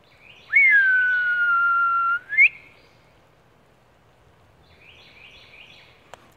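A person gives one long, loud, sustained whistle that rises sharply at the end, followed by a quieter stretch with faint chirping bird calls.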